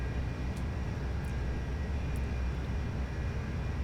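Antonov 225 engines roar at full power during takeoff in the Prepar3D flight simulator while carrying a space shuttle, a loud, steady, unbroken rumble with no talking.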